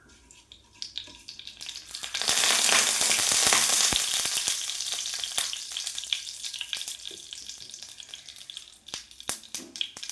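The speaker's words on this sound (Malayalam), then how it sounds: "കടുക് പൊട്ടിയിട്ടുണ്ട്" Mustard seeds popping in hot coconut oil in a pan, a hissing sizzle that swells suddenly and then thins into scattered sharp crackles and pops, close and alone.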